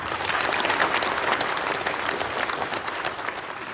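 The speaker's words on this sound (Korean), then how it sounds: "박수로 맞이해주시기 바랍니다." A church general assembly hall fills with steady, dense applause from a large congregation greeting the attending elders and officers, continuous and evenly loud throughout with no voices rising above it.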